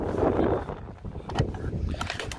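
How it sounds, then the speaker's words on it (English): Strong outdoor wind buffets the microphone in low, uneven rumbling gusts beside a camper van, with a few faint clicks and knocks mixed in. "It's very windy, so apologies."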